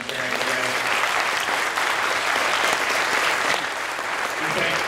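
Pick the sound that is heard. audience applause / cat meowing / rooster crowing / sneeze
audience applause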